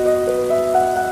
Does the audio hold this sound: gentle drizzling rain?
yes